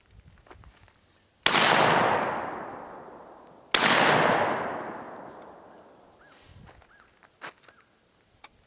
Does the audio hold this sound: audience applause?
no